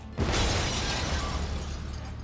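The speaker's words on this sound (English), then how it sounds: "The pharmacy explosion was a little tricky just because you're working in a public street." A staged pharmacy explosion on a public street, shot for the film No Country for Old Men, bursts with a sudden loud blast and shattering crash, then a long roaring rumble that slowly fades.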